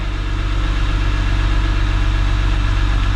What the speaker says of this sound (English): But yeah, engine is turning now.